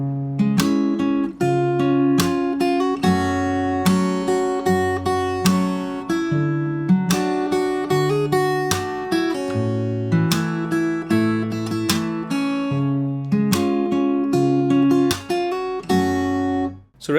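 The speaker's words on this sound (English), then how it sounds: "And then we have the second half of the chorus, which sounds like this." Fingerstyle acoustic guitar plays the second half of the chorus of a song, steady plucked chords and melody notes with percussive slaps ringing continuously and close, with no talking.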